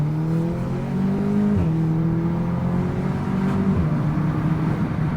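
A Porsche Boxster's engine drones steadily while the car drives, with its pitch stepping down at two gear changes before climbing again, heard close and continuous from inside the car.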